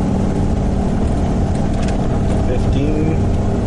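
A car running a B10 93-octane special tune accelerates hard, its engine droning loud and steady throughout with road and wind noise, a voice talking over it.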